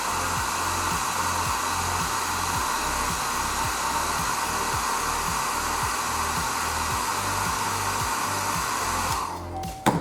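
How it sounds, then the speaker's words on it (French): A hair dryer blows with a steady, loud whirring hum close by, then cuts off abruptly at the end. "redonner un petit coup de sèche-cheveux."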